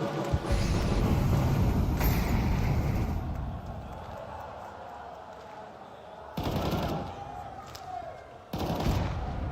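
Rifle gunfire from an esports shooter video game, heard as dense rapid bursts over a roaring arena-like background, with a couple of sharp louder volleys near the end.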